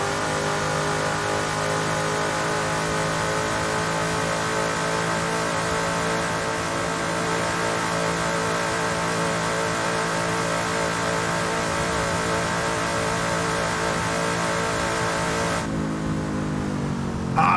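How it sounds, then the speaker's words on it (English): Racing car engine at Bathurst roaring steadily under load, its harmonics rising and falling through repeated heel-toe downshifts with throttle blips, loud and close for most of the stretch before dropping away near the end. "Heel toe downshifts."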